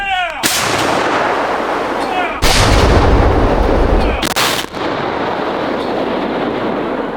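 A Ukrainian tank fires shells in a forest, producing very loud, booming blasts with long rumbling decay, one heavy shot clearly heard amid continuous roar and a sharp crack later, with shouted commands.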